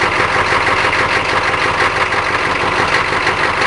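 A K5 Blazer V8 diesel running rough just after a cold start on a cold morning, with a steady loud close engine rumble and no talking.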